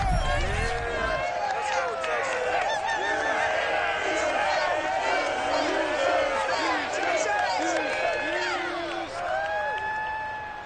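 Stadium crowd at a Texans home game against the Titans in a Madden NFL video game, roaring and cheering continuously with whoops and shouts, loud and dense throughout as the team emerges from the locker room.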